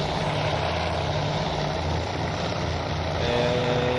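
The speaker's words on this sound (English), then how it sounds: "How did our solitary 2 torpedo bombers do?" Propeller engines of torpedo bombers drone in the naval strategy game Task Force Admiral, a continuous steady hum at moderate level with no pauses.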